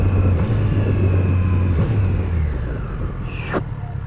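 A 2021 Triumph Street Triple RS rides along with a quick shifter, giving a steady, loud engine drone and rumble with a few brief shift blips, then a sharp short burst near the end.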